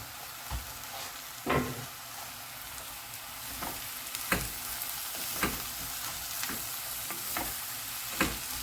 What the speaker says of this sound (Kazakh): Енді осыны сарғайғанша қуырып алам.